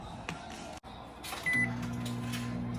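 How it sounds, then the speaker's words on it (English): A household microwave oven warms a plate of homemade nachos piled with cheese, a steady close hum starting partway through after a door clunk and a short beep, running on unbroken. "you pop it in the microwave"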